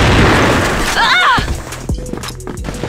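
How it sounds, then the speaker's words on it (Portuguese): A grenade blast in the shooter game CrossFire lands as a loud, sudden boom that fades out with a short rumbling tail, while excited shouting and other game noises carry on around it. "Granada!"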